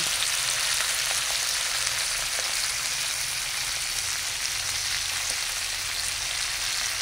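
Tamban fish frying in a pan, a steady close sizzle and crackle of hot oil with scattered pops, continuous and even throughout, no voices.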